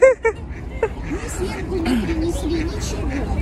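Ducks quack a few times close by at the start at a pond in Central Park, New York, followed by people chatting over steady outdoor background noise.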